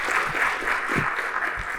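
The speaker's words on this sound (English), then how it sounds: "So a quick sign up applause for our panelists." An audience in a workforce-strategies session in Round Rock claps for its panelists, a brief, fairly even patter of applause from a modest crowd.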